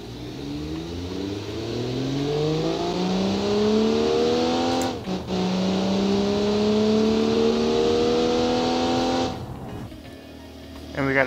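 A Comac XTR accelerating in the Automation car game: a steady engine tone rises through several gears with brief shift dips, loud and close, ending abruptly near the end.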